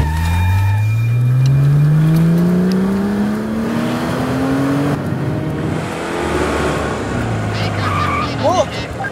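A car engine fires up and revs, the pitch climbing as it accelerates away, followed by receding road noise and a faint squeal, with raised voices in the scene.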